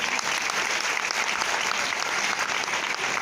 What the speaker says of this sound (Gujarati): આ તમારી હિંમત માટે એકવાર તાળીઓ પાડો